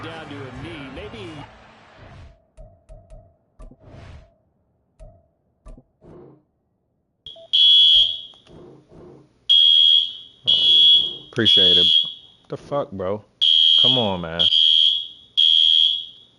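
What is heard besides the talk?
building fire alarm going off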